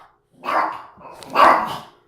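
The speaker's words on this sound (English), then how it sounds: "that's gonna be my dog, sorry" A pet dog indoors lets out two loud, close barks in quick succession, heard alone with no talk over them.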